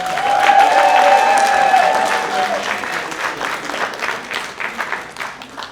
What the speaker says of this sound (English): let's celebrate with a big round of applause Lucy Sexton